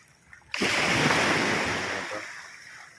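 A wave crashes in abruptly and washes up loudly, its broad hiss slowly fading over a few seconds, with faint wind beforehand, on a debris-strewn sea after heavy rain and a low-pressure storm.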